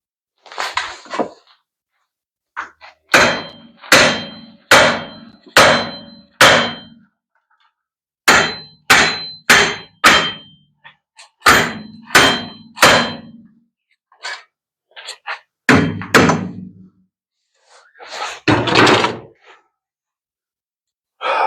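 Hammer blows strike the rear brake and wheel bearing assembly of a 2010 Toyota Yaris, landing as loud metallic clangs in quick bursts of several hits separated by short pauses, with no talking.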